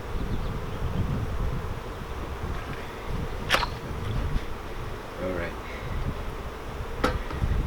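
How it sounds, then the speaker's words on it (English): Honey bees swarm around an opened nuc hive in a dense, continuous buzzing drone, with a couple of individual bees zipping close past. "Decent amount of bees."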